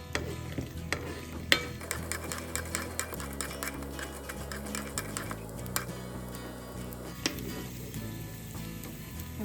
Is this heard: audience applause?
no